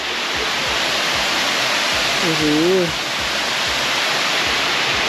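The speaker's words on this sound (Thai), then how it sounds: "ตอนนี้เรามาถึง น้ำตกรับเสด็จแล้วนะครับเป็นในน้ำตกที่ไหลลงไปที่ห้วย" Rap Sadet waterfall on Doi Suthep pours in a loud, constant rushing roar close by, and a voice briefly exclaims over the water.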